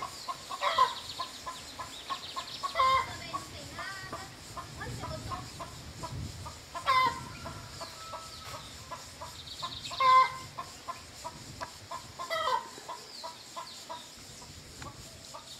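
Chickens on a small rural farm cluck repeatedly at moderate distance, with short bursts of clucking and occasional louder calls over a quiet outdoor background, and no talking.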